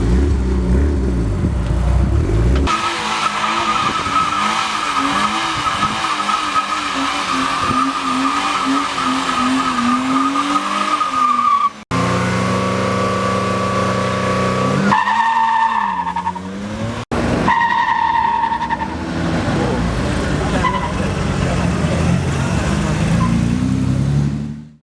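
A car drifts at a drift event, its engine revving hard and rising and falling while its tires squeal and skid in long loud screeches, with brief breaks and shifting pitch across the run.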